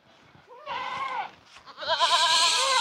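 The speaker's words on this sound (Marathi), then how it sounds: "शेळी" A goat bleats twice close by, loud wavering calls with a short pause between them, the second call longer and stronger.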